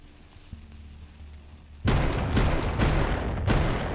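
A sudden loud rumbling blast erupts after a quiet hum, followed by continuous booming explosions and crackling bursts, in the VR video game Hot Dogs, Horseshoes & Hand Grenades.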